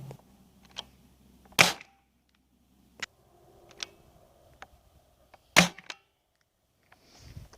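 A homemade Nerf Longshot-style blaster fires foam darts as the magazine is emptied: a few sharp, close snaps spaced a couple of seconds apart, with softer mechanical clicks and handling noises between shots in a quiet garage setting.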